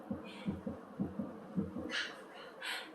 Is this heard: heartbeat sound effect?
yes